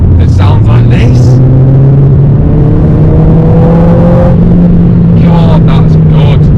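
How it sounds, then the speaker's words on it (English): A 2020 Mercedes-Benz CLA 45 S with its 4-cylinder 2-litre engine revs hard and loud, its pitch climbing steadily in one long pull before easing off, with rumbling exhaust tone close by. "all from a 4-cylinder 2-litre engine that sounds like this"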